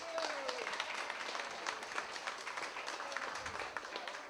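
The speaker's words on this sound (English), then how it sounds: "If you'd please have a nice round of applause for Commissioner Mike Washoe" An outdoor crowd at a summer courthouse square concert claps for a county commissioner, with steady moderate applause sounding somewhat distant and faint throughout.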